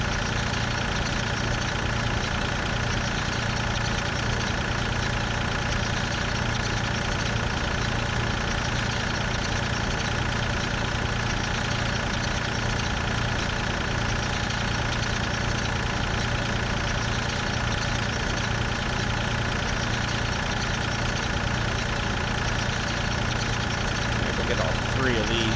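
A tractor engine in the video game Farm Simulator 2013 drones on without a break, a constant mid-pitched hum with no change in rhythm across the whole stretch.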